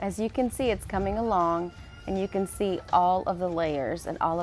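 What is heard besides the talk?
No distinct noise like a dog, phone or traffic.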